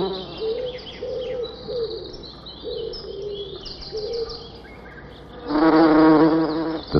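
Bees buzz close by among foxglove flowers, a steady droning hum that swells into a louder, nearer buzz near the end, with faint bird chirps in the background.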